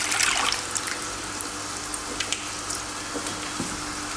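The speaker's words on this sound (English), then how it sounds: "Looking inside the control pot, you'll see the nutrient recirculation pump." Water circulates through a hydroponic bubble-pot system driven by a nutrient recirculation pump, a steady close splashing and trickling with occasional small drips and no talking.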